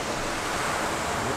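Ocean waves at a beach cemetery where the sea has swallowed graves: a steady, close roar of surf filling the air, with no voices.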